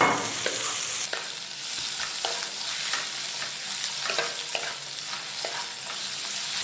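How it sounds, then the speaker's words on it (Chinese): Shrimp stir-fried in a wok with blanched diced carrot and shiitake mushroom, a steady oily sizzle broken by repeated scraping strokes of the spatula at a close, even level with no talking. "倒入虾仁，翻炒至虾仁变色。"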